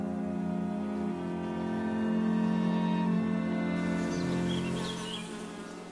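A dense, continuous buzzing of a honeybee swarm leaving its hive, swelling slightly louder midway, droning steadily without pauses.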